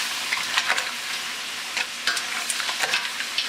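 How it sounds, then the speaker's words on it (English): Lobster shells sizzle steadily as they are stirred around in a hot pot for bisque, with a continuous frying hiss broken by scraping, clattering stirs. "we got the shells in, we're going to stir it around, get the shells good and coated"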